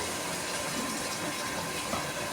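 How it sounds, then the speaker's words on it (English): A small splash of water poured into a pan of cooking spago, giving a brief steady hiss and bubbling wash that fills the moment close up. "You can now add a little water, just very little water, just like that is enough"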